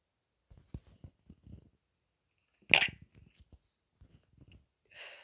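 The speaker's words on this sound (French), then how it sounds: "Je fais les vidéos, j'éternue, j'en suis désolée." One sharp, close sneeze bursts out midway through, set among quiet breaths and small mouth noises, with a faint vocal sound at the end.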